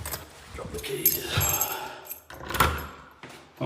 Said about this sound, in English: Drop the keys.